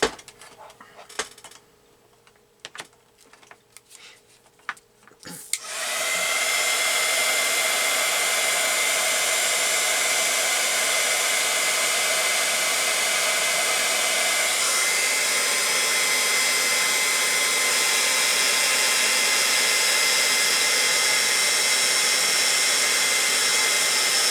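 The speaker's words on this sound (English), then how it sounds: "I'm going to turn on my heat gun, and it shouldn't take but just a minute." After a few quiet seconds of small handling clatters, a heat gun switches on and blows hot air in a loud, steady, continuous roar close by for the rest of the time.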